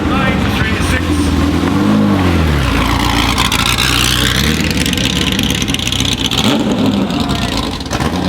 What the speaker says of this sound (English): Please welcome 1976 Porsche 936.